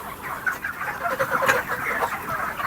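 Broiler chickens on a poultry farm cluck and murmur in a dense, continuous flock chorus, with scattered louder calls rising from the crowd, close by and with no talking.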